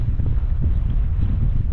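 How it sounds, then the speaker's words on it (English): Steady wind buffets the microphone while kayaking at sea, a low, rumbling roar that barely changes over a couple of seconds. "So there's no doubt you can hear with the wind."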